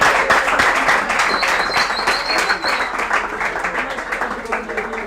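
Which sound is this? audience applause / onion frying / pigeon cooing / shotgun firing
audience applause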